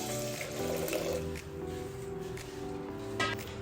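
Water running from a tap into a pressure cooker holding cluster beans (gavar), a steady soft flow with a rising tone as the vessel fills, fairly close and alone.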